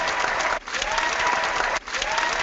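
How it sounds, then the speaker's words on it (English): An audience claps for Mark in sustained, dense applause that fills the room, dipping briefly twice before surging again, with faint voices mixed into the crowd noise. "give Mark a round of applause"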